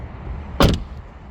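A 2020 Tesla Model 3 door with single-glazed glass shuts in one solid thud and a brief rattle, near and loud against faint background hiss.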